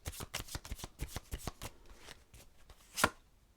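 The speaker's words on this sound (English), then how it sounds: "I'm going to take another card to go with him" Tarot cards flicked and drawn from a deck in a quiet room, with a quick series of close, crisp card snaps and riffles followed by a single sharper slap as a card is set down.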